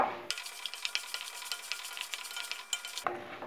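Ginger pieces sizzle and fry in sesame oil over a low flame for Guntur ginger chutney, with steady crackling and a few stirring scrapes, close and alone for about three seconds before cutting off.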